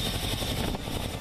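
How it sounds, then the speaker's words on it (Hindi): A Chinook helicopter at Leh airbase gives a steady, loud broadband rotor and engine roar with no pauses and no voices. "Chinook helicopter"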